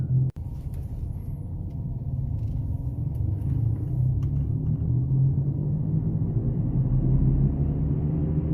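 A car with a worn right front hub bearing makes a steady low rumble while turning, swelling gradually louder and droning continuously with a faint click near the start and no voices.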